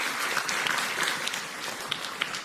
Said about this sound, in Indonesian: tepuk tangan dulu untuk Grup B